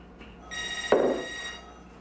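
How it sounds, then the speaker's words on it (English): A telephone rings in a kitchen, a steady electronic ring that starts about halfway in and holds to the end, fairly close and alone, with a brief clatter near the start of the ring. "Lee, it's your phone."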